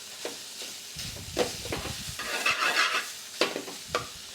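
Minced lamb keema fries with onions, ginger and garlic over high heat, a soft sizzle broken by spatula scrapes and stirring knocks against the pan, close and fairly quiet with no voices.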